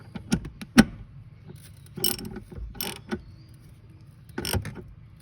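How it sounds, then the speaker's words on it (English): A socket wrench ratchets a nut tight in several short bursts of clicking, with pauses between them, close up and fairly loud with no talking. "Of course, we can grab our socket to give it that final tighten."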